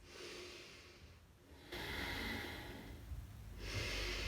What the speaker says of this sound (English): Take 2 more breaths.